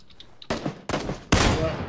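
Gunfire in the video game PUBG, three separate loud bursts of shots in quick succession, each sharp onset followed by rattling decay, close by.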